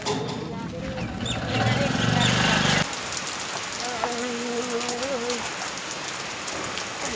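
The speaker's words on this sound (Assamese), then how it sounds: "ইয়াত দোকানতে অকণমান ৰখিছোঁ, ইমান বৰষুণ আহিছে" Heavy rain pours down around a roadside shop, a dense, steady hiss of drops striking surfaces that fills the whole stretch, while a voice speaks over it partway through.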